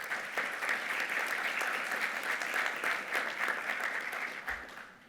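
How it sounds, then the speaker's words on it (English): A conference audience at an opening-night healthcare event in the Cayman Islands applauds a sponsor, a full, even round of clapping that holds steady and tapers slightly at the end. "Give them a round of applause"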